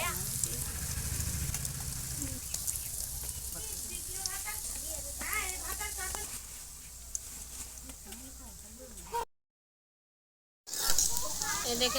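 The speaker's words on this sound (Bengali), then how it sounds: "এবার আমি এক এক করে বলগুলো ভেজে নেব।" Egg balls fry in hot oil in a wok, giving a steady sizzling crackle throughout, with a voice talking over it before a brief gap of silence and the sizzle returning.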